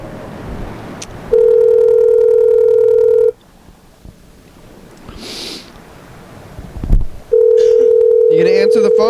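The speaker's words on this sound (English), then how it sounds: "we're just gonna listen to the phone ring for a while" A telephone rings in long, loud, steady electronic tones, two separate rings with a quieter gap between them, where faint voices and handling noise come through.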